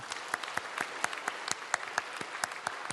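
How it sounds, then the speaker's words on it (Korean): A church congregation at a Sunday service gives sparse, scattered applause of comfort for a grieving family, a few individual hand claps in loose rhythm, fairly faint and thin, with no talking over it. "위로의 박수 크게 부탁드리겠습니다"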